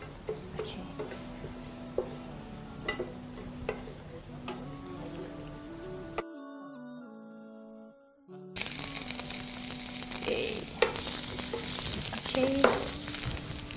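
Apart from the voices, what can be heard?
garlic and ginger frying in a pan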